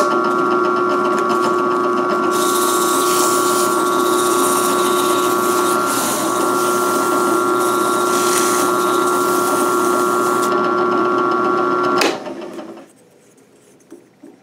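Power sander working a small wooden round-over wheel at 220 grit, a loud steady whirring drone with strong tonal hum that runs continuously for about twelve seconds, then cuts off and winds down to near silence.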